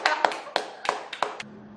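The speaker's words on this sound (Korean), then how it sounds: "그분들 위해서 박수 한번 쳐볼까요?" A few people clap in a studio talk-show setting: about six sharp, scattered hand claps spread unevenly over under two seconds, close and moderately loud, then a faint low hum.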